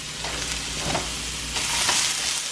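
Mushrooms, onions and green pepper fry in heated oil spray in a pan, giving a steady close sizzle with a few louder crackling bursts throughout.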